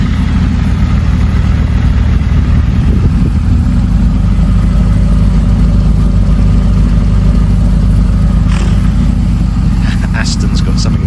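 Sports-exhaust engine of an Aston Martin Vantage S or Porsche 997 Carrera 2S idling with a steady deep rumble throughout, near and loud, with a brief rev flare late on.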